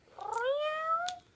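A hungry cat gives a single long, rising meow, close and clear, with brief rustling at its start and end.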